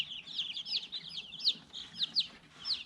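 Dominique baby chicks peep in a brooder, a steady run of high, thin chirps with several louder peeps standing out close by, no talking.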